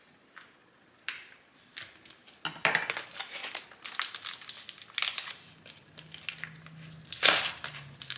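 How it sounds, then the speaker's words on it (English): Food is cut to fit a pan in a home kitchen: irregular knife clicks and taps on a board, mixed with crinkly crushing and scraping sounds at close range, with no talk. "I think I need to cut everything up first to the size of this pan"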